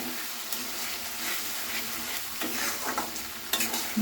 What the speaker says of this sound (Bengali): ভালো করে এইভাবে কষে নিতে হবে মশলাটা